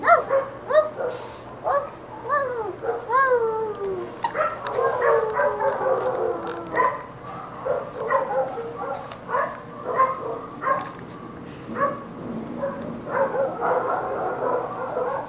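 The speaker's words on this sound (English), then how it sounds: "Oh, you are a little puppy to play with." A small puppy yips, whimpers and barks repeatedly at close range, high-pitched and excitable, with short gaps between bursts.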